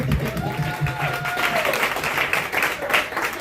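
Scattered applause from an audience at a student award ceremony in Ocho Rios, Jamaica, rises and falls over a few seconds, with some voices mixed in.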